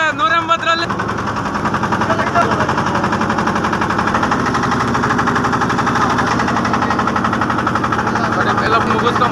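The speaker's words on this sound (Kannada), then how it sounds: "ನೋಡ್ರಿ ಬೋಟ್ ಸ್ಟಾರ್ಟ್ ಆಗ್ತಾ ಇತ್ತು ನಮ್ದು" A motor boat engine starts and runs with a loud, rapid mechanical chugging throughout, steady and close.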